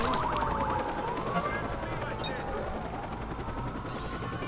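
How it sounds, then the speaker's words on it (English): Rapid gunfire from the video game Watch Dogs rattles under a wailing police siren and a dense game soundscape, loud and chaotic throughout. "Watch out! Shot fired!"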